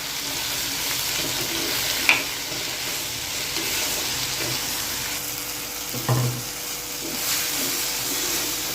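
Chopped tomatoes sauté in a pan for prawn gravy, giving a steady close sizzle throughout with a couple of soft clinks from stirring.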